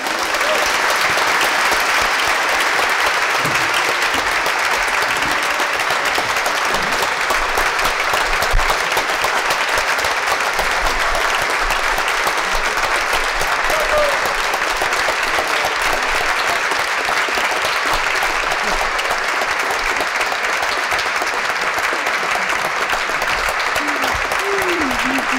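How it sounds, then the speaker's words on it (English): Sustained, loud ovation from a large audience honoring painter Faith Ringgold at a gold medal ceremony, a dense, unbroken roar of clapping lasting throughout with faint crowd murmur beneath. "Please join me in applauding"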